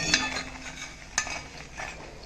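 Potato bajji fritters fry in oil with a soft background sizzle, punctuated by a few sharp clinks and scrapes of a utensil against the pan.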